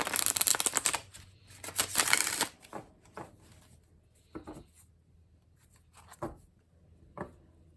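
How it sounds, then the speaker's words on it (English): A tarot card deck being shuffled, with dense riffling bursts during the first two and a half seconds, then sparser, softer card taps and slides spaced out afterward, close up and with no talking. "I don't normally shuffle on camera, but since today is a special occasion reading, I thought I would"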